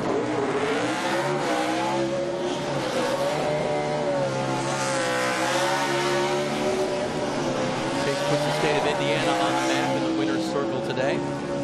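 A NASCAR race car on the Iowa track roars through a sustained, high-revving burnout with a steady engine wail and tire noise, while a commentator talks excitedly over it.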